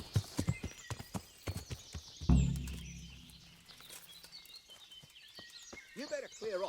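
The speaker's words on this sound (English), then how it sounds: "That horse is mine." Horse hooves clip-clop in sharp, uneven strikes close by, with a heavy thud partway through, then quieter stepping and birdsong; someone speaks faintly in the background.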